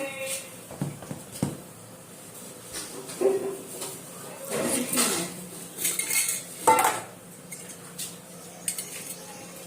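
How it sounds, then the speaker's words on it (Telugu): A frying pan is set onto a freshly lit stove in a home kitchen before frying fish, with close metallic clanks, scrapes and clinks of cookware over a soft background hum and faint voices. "ఇదిగండి వెలిగించి బాండీ పెట్టి"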